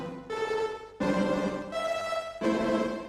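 Sonicware Texture Lab granular effect set to a very small grain size, giving a distorted, buzzing sustained tone in four blocks with abrupt changes, played alone with no talking.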